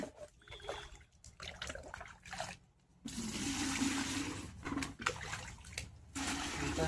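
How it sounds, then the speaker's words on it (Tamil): Water gushes and splashes into a bucket outdoors at a fish-catching spot, starting softer and broken, then a loud steady pour from about three seconds on with a brief pause near five seconds. "பக்கெட்டில் எடுத்து வைப்போம்."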